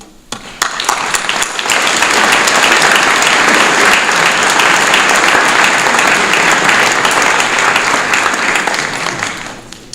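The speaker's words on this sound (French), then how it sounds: "Je crois que vous méritez bien que vous vous applaudissiez." A crowd at a town's New Year wishes ceremony in Soustons applauds itself, loud dense clapping that swells quickly after a few scattered claps and holds steady for several seconds before trailing off.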